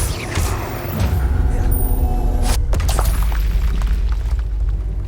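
Bombarda blasting spell in Hogwarts Legacy going off as a loud, deep boom that rolls into a sustained low rumble, with a sharp burst near the middle and debris-like crackle trailing after it.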